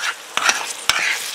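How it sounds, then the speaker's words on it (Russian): Stewed fish with garlic is stirred in a frying pan: a few sharp scraping strokes of a utensil against the pan over a bright steady sizzle, close and alone. "Получше тут все помешаем."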